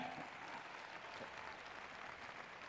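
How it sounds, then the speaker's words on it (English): An audience at a church service claps together, a steady wash of applause heard at a distance and fairly faint. "You want to clap your hands?"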